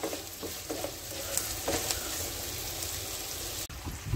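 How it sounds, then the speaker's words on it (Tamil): Onions sautéing in a pan for a shark fish gravy, a steady close sizzle with light stirring scrapes and faint crackles running throughout, no voices. "வெங்காயம் வதங்கிட்டு இருக்கு"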